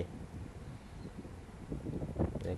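Sea breeze gusting across an open-air seaside eatery, a steady, fairly loud rushing wind that buffets the microphone and swells toward the end.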